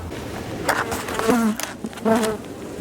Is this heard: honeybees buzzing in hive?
yes